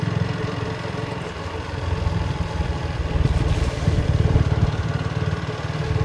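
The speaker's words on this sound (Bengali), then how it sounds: "বাইক চালাতে কিন্তু দারুণ লাগে।" A motorcycle engine rumbling close by as it rides along a rain-flooded road, a steady mid-pitched drone with clattering texture that swells and eases slightly, no talking.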